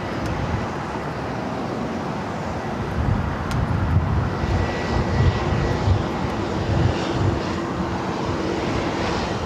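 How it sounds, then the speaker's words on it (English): A Boeing Dreamliner airliner taxiing toward the west gates at LAX, a steady, continuous jet engine rumble at moderate distance mixed with airport background noise, no talk. "So as that Dreamliner now continues to the west gates"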